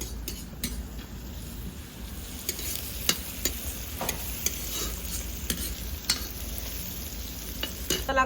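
A quiet, steady sizzle of tadka tempering in a pan for halo bhurji, with scattered light clinks and scrapes of stirring throughout and no talking.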